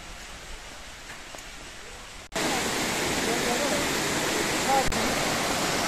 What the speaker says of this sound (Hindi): ये फर्स्ट फॉल है, अब हम चल रहे हैं सेकंड फॉल और थर्ड फॉल देखने